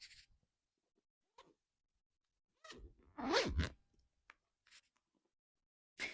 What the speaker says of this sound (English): Let me zip her up.